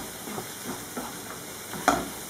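Squid tentacles and peppers sizzle quietly in a hot pan while a utensil stirs them, with soft scraping strokes recurring every half second or so over a faint steady hiss.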